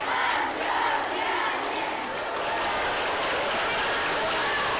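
A crowd of young hockey players applauds and cheers a visiting champion at an arena, with dense clapping and shouting held steady throughout.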